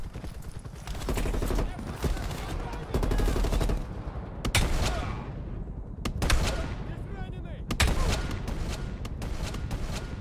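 Repeated bursts of automatic gunfire in Call of Duty Cold War on realism difficulty, close and loud, the shots cracking in quick clusters with short pauses between volleys in a wooded area.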